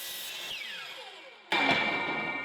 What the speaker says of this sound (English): we got everything nice and ready on the miter saw